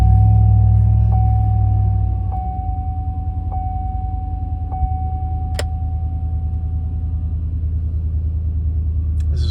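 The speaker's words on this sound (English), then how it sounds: "This is cold startup." A 2010 GMC Yukon with a 5.3 V8 and low oil pressure, started cold: a loud, deep engine rumble for about two seconds settles into a steady idle, with faint periodic ticks on top and no talking.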